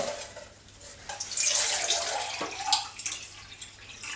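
Tap water runs to rinse a film developing tank, a close, hissing stream that swells and splashes unevenly for a few seconds with no talking.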